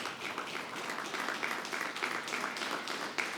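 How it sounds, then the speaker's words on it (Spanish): Steady applause from a church congregation, many hands clapping densely and continuously at a moderate, even level. "dele un aplauso a la mujer"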